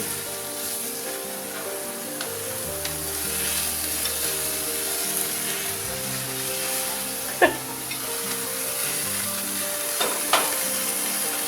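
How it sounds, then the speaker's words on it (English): Shrimp sizzle on a hot outdoor grill, a steady soft hiss with occasional sharp pops and clicks, over a low tonal background hum. "I want to get these shrimp on the grill"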